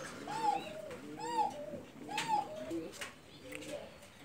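A caged pigeon with egg binding coos in a close, repeated series of soft, throaty rolling calls, about four in quick succession.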